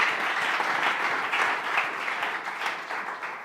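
Steady applause from a church audience fills the space, a dense, sustained wash of many hands clapping at moderate loudness without a break.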